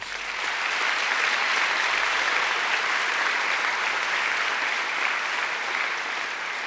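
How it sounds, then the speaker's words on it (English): A graduation ceremony audience gives a full round of applause, a steady, even wash of clapping from many hands that holds at a constant level from start to finish. "I think she deserves another great round of applause."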